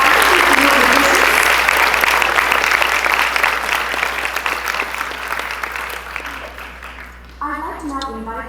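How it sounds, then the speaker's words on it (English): A temple concert audience gives the musicians a loud, sustained round of applause that gradually fades, and a voice begins speaking as the clapping dies away. "Can we have a very big round of applause for our wonderful musicians?"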